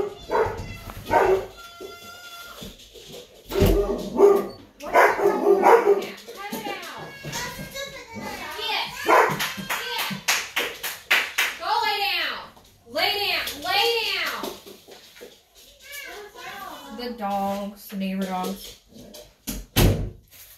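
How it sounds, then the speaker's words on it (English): Several dogs bark in bursts as neighbouring dogs visit, mixed with excited voices and children's chatter throughout, loud and close. "our neighbor dogs like to come over and make our dogs bark"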